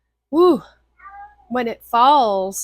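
A rambunctious house cat meows loudly and close by, in two or three drawn-out, wavering cries separated by brief pauses, with a person speaking between them.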